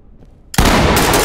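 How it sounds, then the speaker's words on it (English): In the tactical shooter Ready Or Not, set in a hotel with hostages, a sudden loud blast cuts in after a quiet moment, like a shotgun breaching a door, followed by a sustained roaring wash of noise. "Use a shotgun on the door, then clear with bangs."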